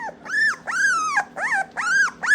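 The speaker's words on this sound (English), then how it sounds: "we're not putting a screaming dog down" A puppy screams in a run of five high, strained, whining yelps that rise and fall in pitch, close and loud with short gaps between them; no clear growl stands out.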